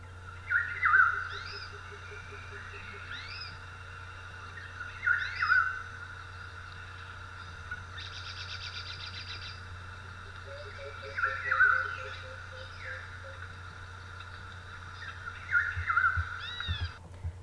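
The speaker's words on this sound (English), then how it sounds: "So hopefully you notice the birds in the background and maybe even some monkeys chirping." Rainforest ambience carries a steady low hum beneath repeated chirping bird calls that come in regular bursts, along with a brief trilling passage in the middle, all moderately distant.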